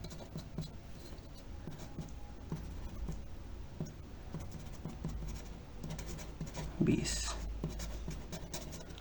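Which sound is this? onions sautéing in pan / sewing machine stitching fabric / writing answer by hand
writing answer by hand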